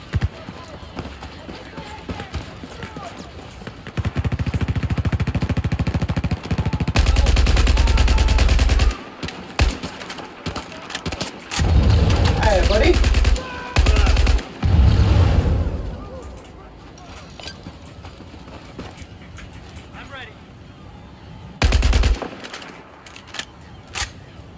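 Rifle fire in the Battlefield 4 video game, loud bursts of rapid shots broken by quieter pauses, with booming low impacts, some distant firing and talking voices in between.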